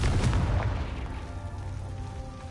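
A Confringo spell explosion in the Hogwarts Legacy video game, a heavy booming burst that rumbles and then fades away over a couple of seconds.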